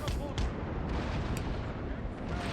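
Naval cannon fire from sailing warships in the video game Napoleon: Total War, a dense rumbling barrage of distant booms and crackling shots, somewhat muffled, with a voice speaking over it.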